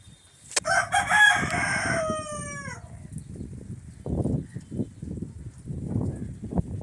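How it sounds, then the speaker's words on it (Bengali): A rooster crows once, loud and close, at a home on a rainy day, followed by softer intermittent clucking from chickens nearby. "এইদিকে ঘরে মুরগি চেঁচাচ্ছে"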